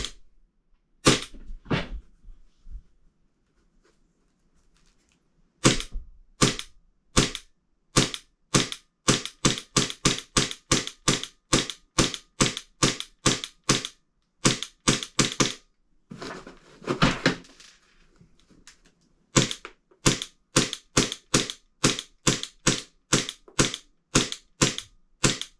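Airsoft gun on a TAPP AAP-01 hybrid lower firing 0.32 gram BBs at 75 psi through a chronograph: a long series of sharp, loud single shots, evenly spaced with brief pauses between strings, no talking.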